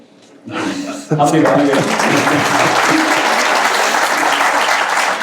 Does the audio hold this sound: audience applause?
yes